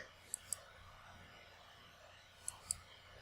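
Four sharp computer mouse clicks in software, in two quick pairs near the start and near the end, over a faint steady room hiss with no talking.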